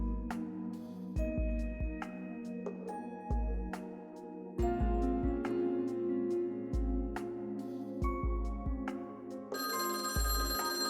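A telephone rings in a quiet night scene, repeated melodic bell-like tones chiming in bursts over soft low thumps, clear and fairly close with no talking.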